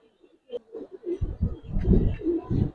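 Giribaz pigeons, a khaki pair of the same pattern, coo in a steady run of low, throaty pulses with soft flutters, close and moderately loud, no talk over them.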